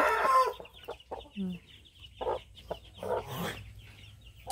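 Chickens cluck in short, irregular bursts at a Filipino backyard farm, fairly close, with brief pauses between calls and faint movement sounds around them.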